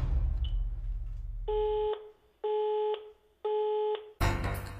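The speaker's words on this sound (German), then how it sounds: "Alles, was aus seinem Telefon kommt, klingt so." A dead landline telephone connection gives three identical steady electronic tones, each lasting about half a second and separated by short silences. Faint room noise comes before them, and a burst of other sound follows at the end.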